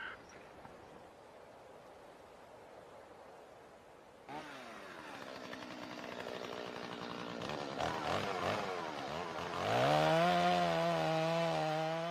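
Chainsaws cutting wood in a snowy forest, starting after a quiet stretch, with rising and falling engine whine that grows louder and revs hard toward the end.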